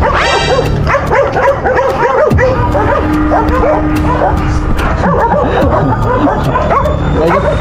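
Dogs bark and yip in quick, overlapping bursts close by, with whimpers mixed in and a steady background noise throughout.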